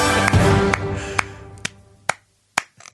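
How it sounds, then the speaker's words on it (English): A slow clap of about six or seven single sharp claps, spaced roughly half a second apart and fading toward the end, close and dry with no talk. "Slow clap."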